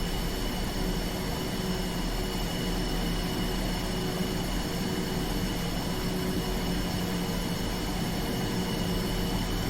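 A steady, loud jet engine roar with a constant whine fills the whole stretch, unbroken and close, as an F-5E Tiger II takes off in the DCS flight simulator game.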